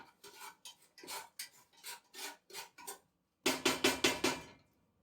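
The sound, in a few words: spatula stirring sautéing vegetables in pot for chicken soup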